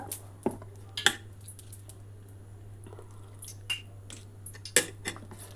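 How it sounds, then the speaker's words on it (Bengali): A spoon stirs a cornflour, pepper and chilli batter thinned with a little water, making soft wet squishes broken by a few sharp clinks against the bowl, all quiet over a low steady hum. "একটু জল দিয়ে গুলে নিচ্ছি বন্ধুরা।"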